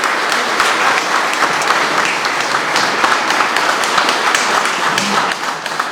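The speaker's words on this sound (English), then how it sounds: "I'd like to get everyone to clap." Steady, loud audience applause at a poetry book launch, a dense continuous wash of many hands clapping for several seconds without a break.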